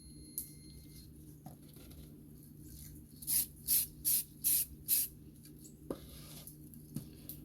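Spray can of black primer applied to bike parts in five short, even bursts close to the microphone, each a sharp hiss about half a second long, set against a quiet room hum.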